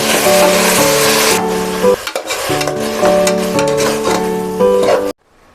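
Onions and tomatoes frying in a pan, loud close sizzling with stirring and scraping, set against a tonal background hum, then cutting off abruptly near the end.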